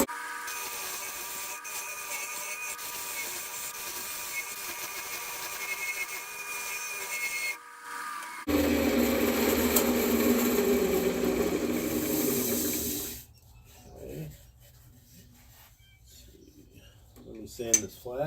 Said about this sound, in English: Sand this flat.